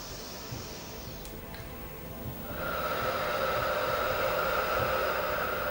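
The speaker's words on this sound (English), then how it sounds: "Another couple of breaths." Slow, audible breathing during a pregnancy yoga calf stretch: a soft, airy exhale builds and then holds as a steady breathy rush, close and quiet, with no talking.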